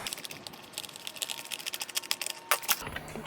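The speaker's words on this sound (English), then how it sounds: "So I got one more screw to get out here." A screwdriver works a screw out of a Honeywell TurboForce HT900D fan, giving a run of quick light clicks and ticks close by, ending in a short sharper rattle, with no talking.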